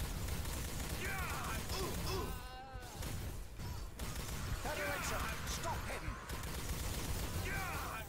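Gunfire in the first-person shooter Elite Force 2 crackles in rapid bursts alongside impacts and crashes, with a voice talking over the busy, loud combat throughout.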